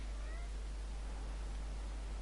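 A pet cat trying to get out of a room meows during a home computer gaming session, faint and brief beneath a constant hiss of background noise.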